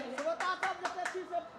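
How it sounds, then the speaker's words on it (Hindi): At a devotional bhakti gathering, an audience claps to welcome a guest: sharp rhythmic claps about every fifth of a second, moderately loud, mixed with a voice speaking or singing over them. "तो सब गोटा जोरदार ताली से स्वागत करियो बाबा के"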